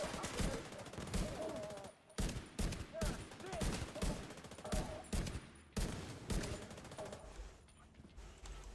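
Rifle fire in The Division 2, a shooter video game: repeated bursts and single cracks of gunfire with short pauses between volleys, fairly loud, with faint voices talking underneath.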